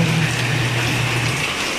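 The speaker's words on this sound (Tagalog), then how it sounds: "Tingnan nyo ang klima. Lakas ng ulan." Heavy rain pours steadily in a dense, loud hiss, with a low hum underneath for the first part.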